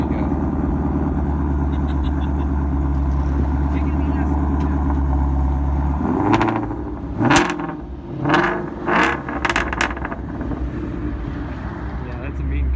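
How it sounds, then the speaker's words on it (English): A Hennessey HPE 850 Shelby GT350 with its active exhaust switched to sport mode: a loud, close idle drone, then a series of sharp throttle blips and revs that rise and fall several times. "switching it to the sport mode on the active exhaust."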